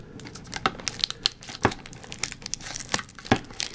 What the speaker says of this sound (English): If we can get this plastic off.